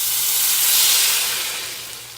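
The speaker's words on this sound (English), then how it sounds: "And it's gonna make a big sizzle" Food sizzles hard in a hot pan for a country supper, a steady loud frying hiss that swells and then eases off, with no voices over it.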